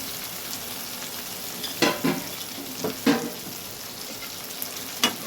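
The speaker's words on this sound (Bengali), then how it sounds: "এটাকে একটু এর সাথে সব চিকেনগুলো দিয়ে দেবো, এবারে দিয়ে একেবারে কষতে থাকবো।" Chicken chaap sizzles and fries in gravy in a pan, a constant crackling hiss broken by several sharp scraping stirs of a utensil against the pan.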